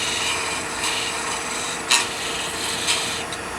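A quarter-inch turning tool undercutting a wooden finial spinning on a lathe, a continuous bright scraping rasp at close range with a few sharper catches breaking through, and no speech.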